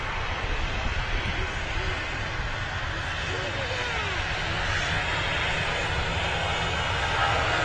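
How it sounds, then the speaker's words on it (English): EasyJet airliner rolling for takeoff at Manchester Airport, a loud, sustained engine roar that holds steady and swells slightly, with a voice talking over it. "On the roll is the EasyJet to Nice."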